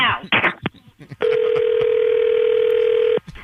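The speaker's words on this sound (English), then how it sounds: "some guy, Sean, just called me on my cell phone" A steady telephone dial tone sounds loud and unbroken for about two seconds after a phone call ends, preceded by brief speech-like bursts and cutting off abruptly.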